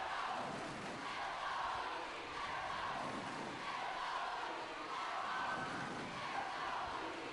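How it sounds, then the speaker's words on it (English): Loud, steady roar of a packed basketball arena crowd at an under-18 Australia versus New Zealand grand final, a dense continuous wash of voices and cheering with no breaks. "Very noisy crowd here tonight."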